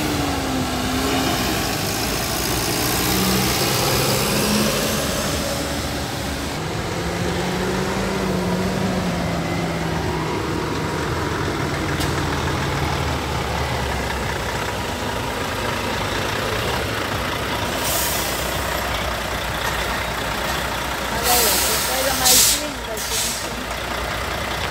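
A truck engine idles in a steady low rumble while waiting in traffic, with hissing air and passing vehicle noise around it, someone talking over it throughout, and a few sharp clicks near the end.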